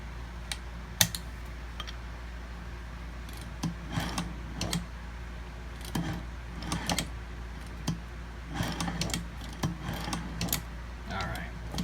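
Muyupai leather patcher sewing machine being cycled after threading, giving a series of short, sharp mechanical clicks and clacks in irregular bursts at close range, with no talking.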